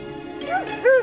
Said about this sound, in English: What's that? It sounded like a dog.